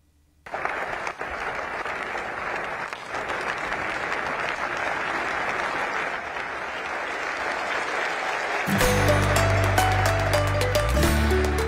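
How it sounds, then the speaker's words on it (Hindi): Thunderous applause from a crowd of students in Delhi's Talkatora Stadium rolls on continuously, a thick even roar of clapping that persists until music with sustained tones enters near the end. "तालियों की गड़गड़ाहट के बीच आज शुरू हुई मोदी सर की वो क्लास"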